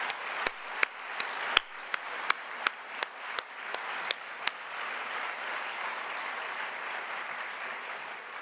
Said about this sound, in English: let's give Ellen Proxmire a great round of applause